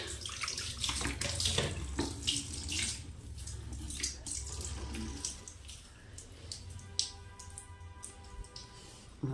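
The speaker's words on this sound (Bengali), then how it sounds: "বাসন বের করলাম, জল পড়ে যাচ্ছে।" A kitchen tap runs steadily into a sink while dishes are washed, a close, continuous splashing stream with occasional clinks and a brief rise in flow, with no talking.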